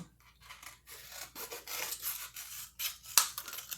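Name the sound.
scissors trimming ends of plastic water bottle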